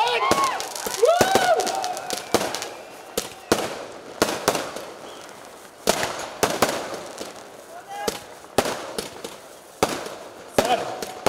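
Firecrackers burst in a string of sharp, loud bangs at irregular intervals, some preceded by short whistling tones, with crowd noise faintly in between.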